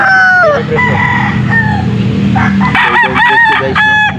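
Roosters crow repeatedly at a pet market in Angeles, Pampanga, several calls overlapping up close amid a noisy crowd and bird clucking, with one long crow early and a rapid series of crows near the end.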